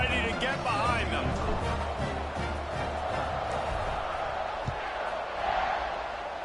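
A stadium crowd in the College Football 26 video game, Baylor versus UCLA, roars as a steady wash of cheering at kickoff, with a commentator talking over it.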